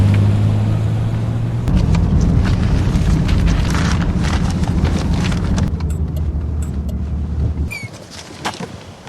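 A beat-up old car rumbles past up close with a heavy, boomy low engine drone, then settles and stops, leaving quieter clicks and scattered knocks.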